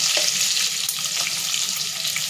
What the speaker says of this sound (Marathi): हे आपल्याला थोडेसे फ्राय करून घ्यायचे